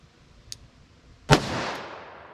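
A Governor revolver loaded with hot ammunition fires one loud, sharp shot after a faint click, and the boom rolls away in a long fading echo.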